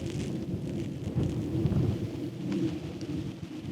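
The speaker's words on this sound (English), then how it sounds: "it's just started raining again." Steady rain falling on a trekking pole tent, a continuous close patter with a low rumbling wash underneath, with no talking.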